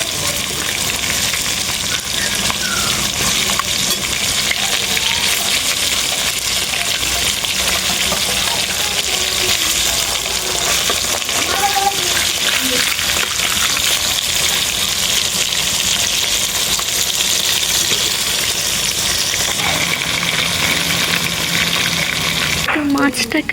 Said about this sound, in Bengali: এবারে মাছগুলো আমি খুব সুন্দর করে ভেজে নেব